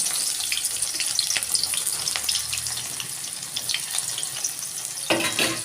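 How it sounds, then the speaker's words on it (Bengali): Onion sizzling in hot oil in a home kitchen pan, a steady crackling hiss with occasional sharper spits and clinks close by, continuing without talk. "তেলের মধ্যে আমি আগে পেঁয়াজটা দিয়ে দেবো"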